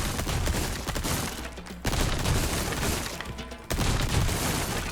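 Rapid SMG and shotgun fire from Resident Evil 4 Remake, a dense, loud volley of gunshots and blasts that fills the whole stretch, broken by two brief dips before the shooting resumes.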